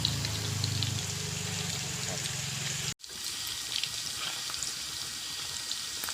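Fish deep-frying in hot oil until crispy gives a steady, dense crackling sizzle that runs throughout. It breaks off for an instant midway, then resumes at the same even level.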